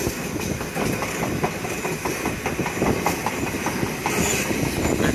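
A London Underground Piccadilly line train runs in the open as it crosses the North Circular Road. The wheels keep up a steady, rhythmic clickety-clack over a continuous rumble heard from on board, with no talking.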